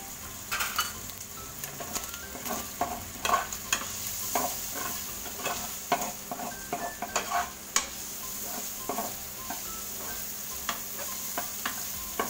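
Shrimp paste being sautéed with onion and garlic in a pan, a close, busy stirring with frequent spatula clacks and scrapes over a constant sizzle, no talking.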